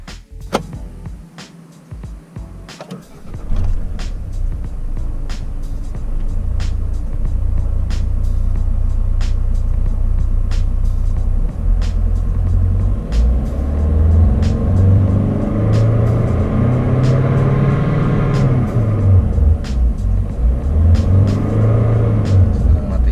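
Steady low engine rumble fills the cabin of a Suzuki Baleno, rising slightly as it settles into a smooth idle-like drone with faint periodic clicks, heard from inside the car.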